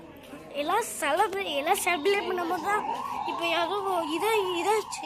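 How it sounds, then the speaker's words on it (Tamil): An ambulance siren wails on New Year's Eve, its rising and falling tone passing behind people talking nearby. "ஆம்புலன்ஸ் செட்டு கேட்டிருக்கோன்னு நினைக்கிறேன்."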